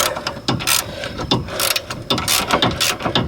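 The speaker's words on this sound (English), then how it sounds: "The old Harbor Freight socket ratchet still going." An old, worn Harbor Freight socket ratchet is worked on a 2009 Subaru Forester sway bar end link, giving close, loud bursts of rapid clicking in repeated strokes with brief pauses between them.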